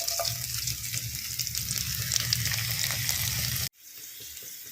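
Five chopped chillies sizzle and fry in a pan in a steady crackling hiss that runs close and even, then cuts off abruptly near the end.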